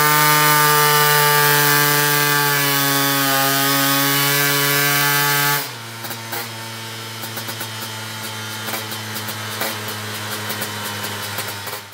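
A Simson SKR 125 two-stroke scooter engine runs with a steady, buzzing harmonic drone for about six seconds, then drops to a lower, rougher, slightly uneven idle, loud and close with no talking.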